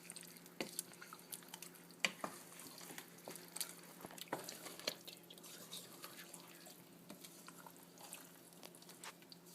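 Water is added to a pot of rice with chicken and stirred, a quiet close-up of scattered drips, small splashes and light scraping clicks in an irregular rhythm, with no voices.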